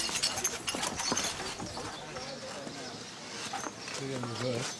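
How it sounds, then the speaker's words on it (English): Hooves clop on a hard surface in an irregular walking rhythm while people talk over them, ending with a voiced sound. "This horse is reversing."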